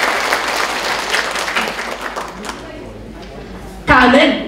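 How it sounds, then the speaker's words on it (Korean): An audience at a Korean regional health event in Gwangju and South Jeolla applauds to welcome arriving guests, a dense steady clapping that fades out before a voice briefly returns. "박수로 환영해 주십시오."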